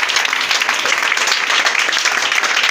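A church congregation applauds together, a dense, steady roar of many hands clapping throughout, loud and filling the room.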